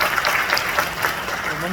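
Audience applause at a devotional talk program, a dense continuous patter of clapping from a gathered crowd throughout, with a voice speaking over it.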